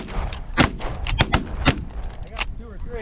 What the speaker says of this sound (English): Better shoot them.